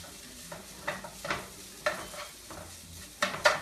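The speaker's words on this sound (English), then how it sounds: "That sliding sound are those fine breadcrumbs getting crispy." Fine breadcrumbs frying and crisping in a pan, giving a soft steady sizzle broken by several sliding scrapes and stirring swishes that come at irregular intervals, close up with no talking.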